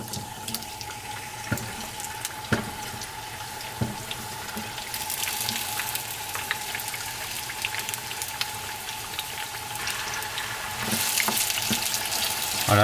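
Potatoes hit hot oil in a pan for a tortilla, giving a steady, hissing sizzle that swells slightly toward the end, with no voices over it.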